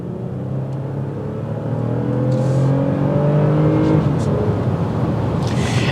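A 2022 Lexus ES 350 sedan with a non-turbocharged engine of about 302 horsepower accelerates, its engine note rising steadily in pitch as it gains speed over a constant road and wind roar, loud and close from inside the cabin.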